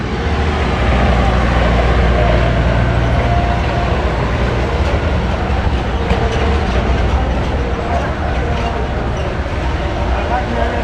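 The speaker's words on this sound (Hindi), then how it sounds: "देखिए आ चुकी" The Rail Gram Express toy train runs at the crowded Sonpur fair with a loud steady rumble and rattling, close by, under constant crowd noise and voices throughout.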